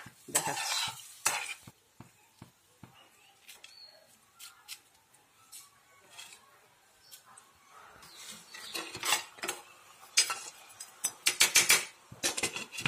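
Rui fish curry cooking in a pan: bursts of spoon scraping and clinking against the metal with a faint simmering sizzle underneath, busier near the start and end.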